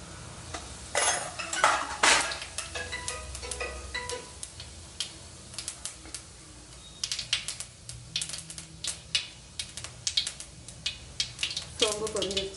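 Fennel seeds crackle and pop in about three tablespoons of hot oil in a pan as tempering for a Chettinad bitter gourd masala, with scattered sharp sizzling bursts and a few clinks of a spoon stirring against the pan.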